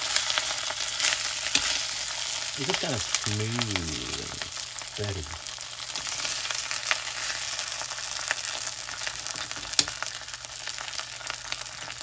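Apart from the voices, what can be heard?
food bubbling and frying in a pan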